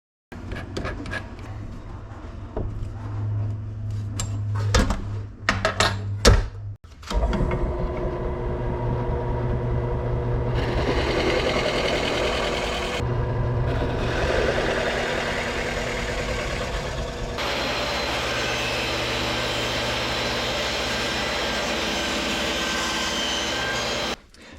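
A Veritas tapered snug plug cutter runs in a powered drill bored into wood, giving a steady, loud whining drone with brief pauses and restarts between cuts, close by and with no voices.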